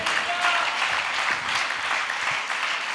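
Congregation clapping at a church sermon, a steady, dense wash of applause filling the whole stretch without a break.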